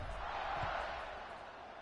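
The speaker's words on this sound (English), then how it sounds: "this crowd is buzzing after that last score" A college football video game stadium crowd buzzes with a steady, dense roar that swells slightly and then eases, with no clear voices rising above it.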